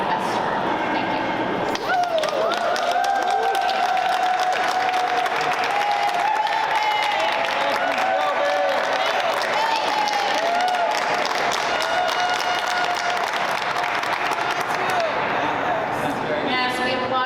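Applause for speakers at the end of a press conference, steady clapping from a crowd holding at an even level for most of the stretch, fairly distant and slightly hollow in tone.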